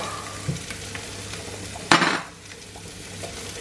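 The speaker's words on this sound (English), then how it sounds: "Just adding some oil to the pan. Tablespoon of oil. And we'll put a little butter in there as well." Oil and butter heat in a frying pan before cod goes in, a low background sizzle with a few utensil knocks and one sudden loud hiss of frying partway through.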